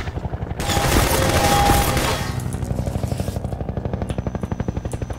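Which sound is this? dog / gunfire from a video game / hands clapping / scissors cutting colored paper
gunfire from a video game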